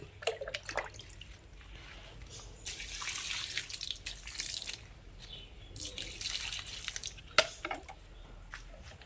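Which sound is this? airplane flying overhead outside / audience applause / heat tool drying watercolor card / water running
water running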